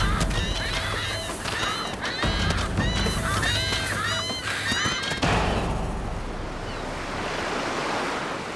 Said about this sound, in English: it makes a loud cry, announcing to other striated caracaras in the area that dinner is served